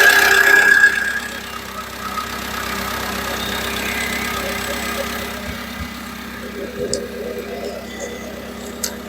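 A Nissan forklift's carburetted four-cylinder petrol engine idles steadily at a moderate distance, a smooth low hum with faint ticking, heard alone.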